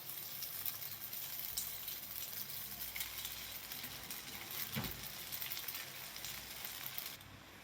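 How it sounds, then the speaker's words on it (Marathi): Sago goes into a frying pan on medium heat and keeps up a steady, moderate sizzle and hiss. One low thump from the pan sounds partway through, then the sound cuts off and goes quieter, with no speech. "आता यामध्ये आपल्याला शाबू घालायचा आहे बघा."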